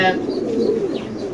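Caged pigeons kept for sale give a brief, close, low throaty coo, with soft background murmur.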